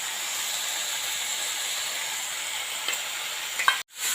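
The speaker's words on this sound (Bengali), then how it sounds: "এগুলো আমি সবজির সঙ্গে একটু ভেজে নেব।" Vegetables with salt and chilli powder fry in a pan with a steady, even sizzle and hiss, followed by a couple of brief utensil clinks near the end before the sound cuts off.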